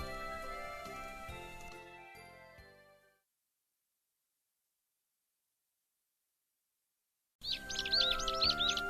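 Small birds chirp and tweet beside a quiet country road in a video game, bright repeated calls over a layered background tune that drops to silence midway, then returns with fresh chirps.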